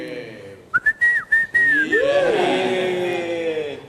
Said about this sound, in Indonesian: Saya kan bisa siul juga.